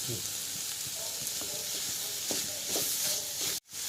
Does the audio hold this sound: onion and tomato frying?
yes